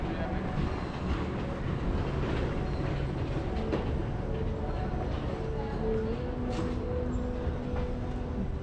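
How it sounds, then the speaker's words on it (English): Metro train at an underground subway station in Hollywood, a steady rumbling, rolling drone that fills the whole stretch with faint clatter, while people talk over it. "So this is the subway, or they call it the metro here,"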